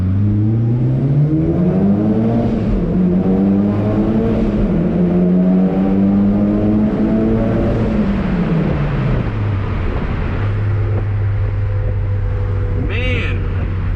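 A Mitsubishi Lancer Evolution V engine hums and climbs in pitch as it accelerates through gears on streets in Japan, loud and close, with a voice talking briefly over it.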